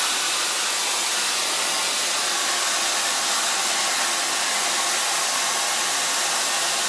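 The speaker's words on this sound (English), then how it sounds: "Start blow drying with the use of a diffuser." Hair dryer fitted with a diffuser blowing over curly hair, a loud steady airy whoosh with a constant motor hiss running unbroken from start to finish, close to the listener and without speech.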